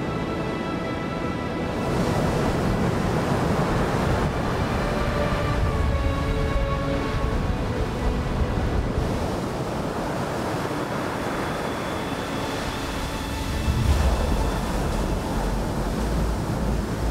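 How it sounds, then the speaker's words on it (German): Near-hurricane wind roars over heavy surf at Diamond Beach, Iceland, a loud, continuous wash of waves and gusting wind buffeting the microphone, with swells rising and falling throughout. "Großes Problem ist halt, dass wir fast orkanartigen Wind draußen haben."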